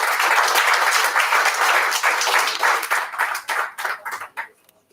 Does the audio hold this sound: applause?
yes